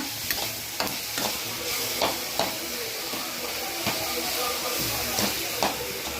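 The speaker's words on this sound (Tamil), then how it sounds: "வெங்காயம் தக்காளி வதங்கின்னு இருக்கு" Onions and tomatoes fry in a hot pan for a simple broad bean stir-fry, giving a continuous loud sizzle and hiss with repeated spatula scrapes and taps at an irregular pace.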